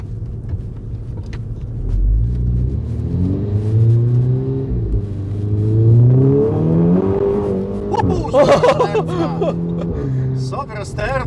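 A VW Golf R MK6 in race mode revs and accelerates hard with a loud, rising engine note that swells and drops, tyres scrabbling near the end as it oversteers, with people talking excitedly over it throughout.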